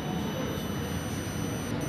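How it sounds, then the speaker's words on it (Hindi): A multimeter set to continuity mode beeps as its two probe pins touch while a car's glow plug is being tested, giving a steady, high electronic tone that holds throughout over a background hiss. "तो एक बीप की साउंड आपको सुनाई दे रही होगी।"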